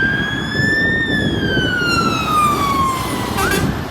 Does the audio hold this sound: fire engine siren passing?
yes